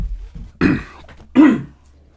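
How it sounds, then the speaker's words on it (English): Two sharp, throaty coughs land close on a microphone about a second apart, loud and boomy, with quiet room noise between them. "you coughed into it first and then turned it"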